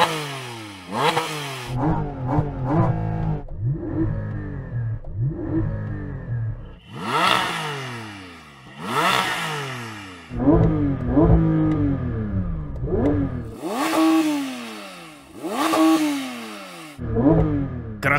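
A Porsche 911 GT3 engine revs repeatedly toward about 6000 rpm under launch control, each rev sweeping sharply up in pitch then dropping back, loud and close, with brief pops between rises.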